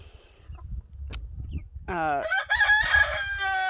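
Young chickens raised for breeder flocks on a farm hatchery: a short squawk, then a loud, close rooster-style crow that carries to the end over low background rumble.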